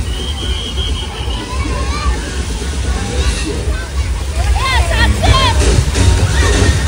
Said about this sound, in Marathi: सगळी लहान लहान पोरं हे बघ कशी पेवतात पाण्यात